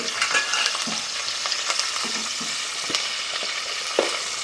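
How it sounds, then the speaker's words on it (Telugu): Curry leaves hit hot oil in a pan and sizzle steadily up close, with crackling pops and stirring scrapes throughout and no talking. "ముందుగా నేను కరివేపాకు వేస్తున్నానమ్మా దీంట్లో వేస్తున్నానండి"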